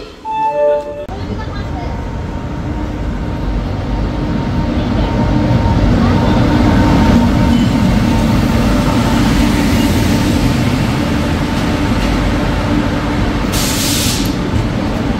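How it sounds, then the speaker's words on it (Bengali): The Bhubaneswar–New Delhi Rajdhani Express pulls into platform 1 with a heavy, continuous low rumble and rolling wheel noise that builds and holds. Voices on the platform are faintly audible beneath it. "আমাদের ট্রেনে এসে গেছে"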